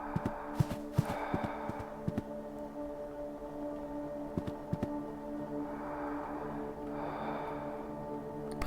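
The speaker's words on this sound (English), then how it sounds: "Goodness, I can hear breathing beyond." Slow, eerie breathing with soft rasping inhales and exhales rises from a dark room in the horror game The Last Door, backed by a low droning ambience and scattered dull knocks.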